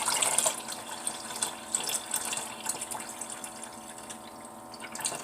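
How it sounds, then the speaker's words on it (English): Old pickle juice poured from a jar through a kitchen strainer, a steady close trickle and splash of liquid with small drips, no talking. "This is my old pickle juice. And I'm just going to put this through the strainer."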